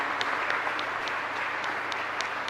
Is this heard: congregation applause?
yes